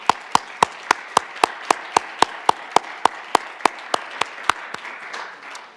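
Audience applause at a conference comes as steady, evenly spaced claps, about eighteen in a row, crisp and fairly near, before fading into a softer patter at the end.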